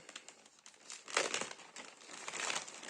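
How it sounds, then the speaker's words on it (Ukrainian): A Ukrposhta plastic parcel bag being unwrapped by hand, giving close, steady crinkling and rustling with brief louder crackles partway through. "давайте розпакуємо все ж таки посилочку"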